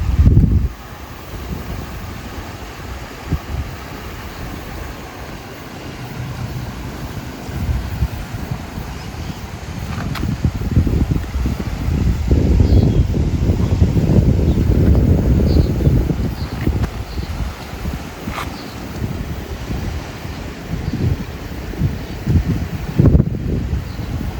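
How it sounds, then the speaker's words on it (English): River waves lapping at the shore in Colonia del Sacramento, Uruguay, a steady wash of water under gusty wind buffeting the microphone, swelling louder midway and easing again, with no voices. "Let's just have a sound of the river and the waves very quietly for just a moment"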